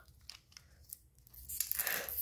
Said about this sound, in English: Zipper's taking long.